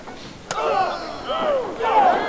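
Wrestling crowd at an independent show, a swelling roar of voices with whistles and shouts rising and falling, a sharp slap-like hit near the start, loud and close.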